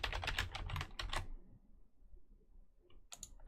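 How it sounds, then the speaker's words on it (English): Quick bursts of keystrokes on a computer keyboard, a dense flurry of clicks for about a second, then a pause before another short burst; close and clear, with no voices. "Let's see what happens if I type politics in here."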